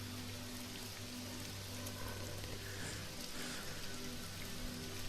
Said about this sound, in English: How's the rain now?